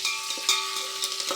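Mustard seeds, dried red chillies and curry leaves frying in hot oil for home-style South Indian rasam, with a brief steady sizzle and small crackles near the pan.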